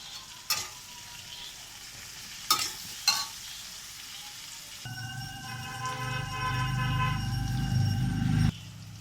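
Pointed gourd (potol) fries in a pan until reddish, with a low steady sizzle; three sharp utensil taps come early, then a louder humming, bubbling stretch takes over toward the end.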